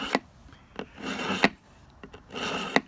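An aluminum 12-inch ruler being ground to a fine edge on a 12 to 14 degree bevel, with rhythmic rasping strokes roughly every half second to second, close and alone with no talk.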